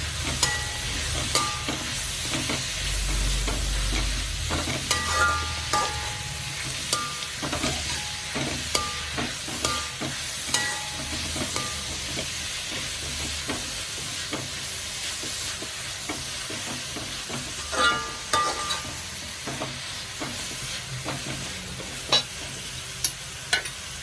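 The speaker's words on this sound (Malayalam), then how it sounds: "പത്ത് കൊച്ചുള്ളിയുടെ അരിഞ്ഞു വെച്ചത് ചേർത്ത് കൊടുക്കാം. നന്നായിട്ടൊന്ന് വാടിക്കോട്ടെ." Chopped small shallots saute in a pan for Kerala beef varattiyathu with a constant close frying sizzle, broken by repeated scraping stirs and clicks of a spoon against the pan.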